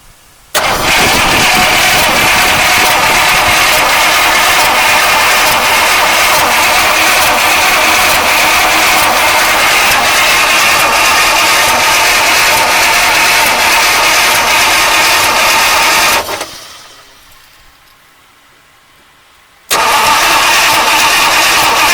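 A 1953 Oldsmobile Rocket Super 88 barn-find engine cranks and catches, running loud and steady for about sixteen seconds before cutting out briefly, then firing back up.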